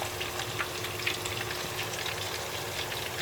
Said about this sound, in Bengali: দেখেন তেল গরম হয়ে গেছে। এখন আমরা সব ভেজে নিব আস্তে ধীরে।